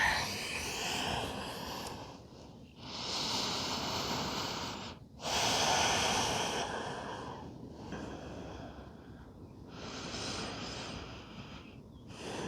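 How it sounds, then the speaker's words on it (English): Slow, deep breaths during a yoga child's pose, with long airy inhales and exhales rising and falling close to the ear in a quiet room, several breath cycles in a row. "And just breathe deep."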